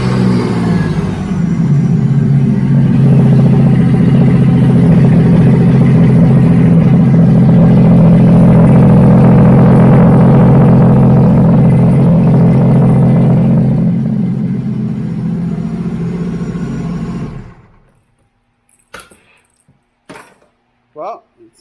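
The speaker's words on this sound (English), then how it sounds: "Well, it seems to start up. It shot out a bunch of water out of the exhaust." Sea-Doo RXP-X 300 personal watercraft engine starting and running with a loud, rough roar for about seventeen seconds, then shutting off into quiet broken by a few faint clicks and knocks.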